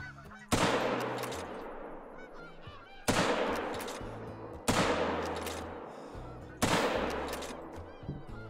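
Four loud gunshots ring out at roughly even spacing in the Call of the Wild hunting game, each sharp crack trailing off, with Canada geese honking in the background between shots.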